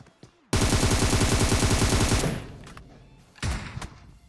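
Automatic weapon fire in PUBG Mobile: a loud sustained burst of rapid shots for about two seconds, then quiet, followed by a shorter second burst near the end.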